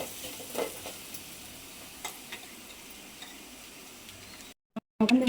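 Black pepper frying in a pan for rasam gives a steady, faint crackling sizzle with light ticking stirs that fades into a brief silence near the end, heard close with no voices.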